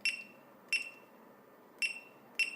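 Reminder alert tone from a Retekess TD108 restaurant calling system: four short, bright electronic beeps spaced irregularly over a quiet background, fairly soft and close, with no talking.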